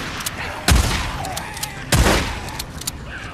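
Shotgun blasts in the video game Days Gone, two loud booming shots about a second apart with a few smaller clicks and impacts between them.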